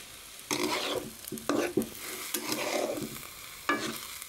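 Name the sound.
polao rice being fried and stirred in a pan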